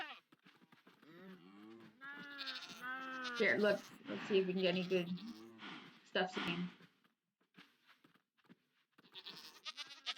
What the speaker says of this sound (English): Maybe I should get a few more goats in here.